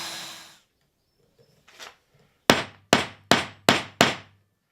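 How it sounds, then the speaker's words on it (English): Five sharp, evenly spaced mallet-on-chisel blows ring out close by as a 12mm mortise is chopped by hand into solid ash, following a few fainter scrapes and knocks. "This is 12mm mortise I'm cutting"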